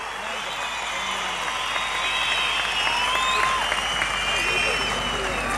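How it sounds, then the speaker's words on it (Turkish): A packed stadium crowd at a Turkish Language Olympiad event in Erzincan cheers and applauds teachers, a continuous roar with whistles and shouts rising slightly, while an announcer speaks over it. "Onları buradan coşkuyla, sevgiyle alkışlıyoruz"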